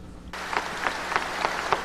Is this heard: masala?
no